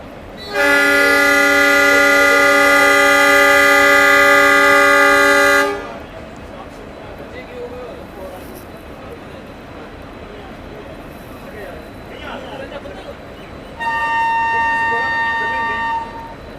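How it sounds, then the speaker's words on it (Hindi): Diesel train horn sounds loud and sustained for about five seconds as a passenger train departs Barmer station in the Thar desert region, followed by quieter rumbling station ambience and a second shorter horn blast near the end. "दोस्तों यहाँ बिल्कुल निर्धारित समय सुबह 7:30 बजे हमारी ट्रेन का डिपार्चर होता है बाड़मेर से"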